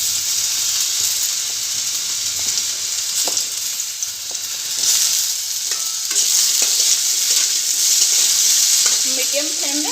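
Vegetables such as potato and carrot fry and sizzle in a hot kadai over a medium flame, a steady bright hiss with scraping stir strokes through it, close and loud and without talk.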